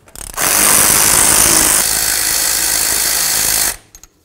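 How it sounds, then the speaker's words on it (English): A power tool spins out 7mm Allen head caliper slider bolts on the rear brakes of a 2007-2017 Ford Expedition, a loud steady rattling whir lasting several seconds, close by, with a short run-up and an abrupt stop. "we're going to remove these 7mm Allen head bolts that hold the sliders"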